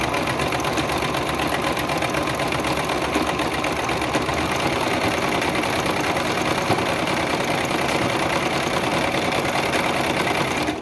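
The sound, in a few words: sewing machine stitching a zigzag seam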